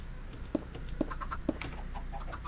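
Chickens clucking in Minecraft, three short evenly spaced clucks about half a second apart, followed by softer chatter from a farm room with cows nearby, moderately loud against a steady background hum.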